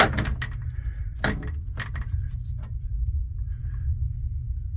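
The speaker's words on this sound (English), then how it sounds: "Bring our new, or rebuilt in this case, ball door back in." A rebuilt ball door is fitted back into a Brunswick GSX bowling pinsetter with several sharp metallic clunks and rattling jangles, close by, over a steady low machine hum.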